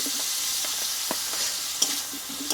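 Potatoes frying in a pan with spice masala for Bengali alu potol dom, stirred with a few soft scrapes over a steady, close sizzle; no one speaks.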